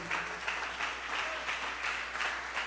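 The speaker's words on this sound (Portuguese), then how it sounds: "pode aplaudir ao Senhor." Church congregation applauding during a service, a steady wash of clapping from many hands at moderate distance with gentle surges, no talk over it.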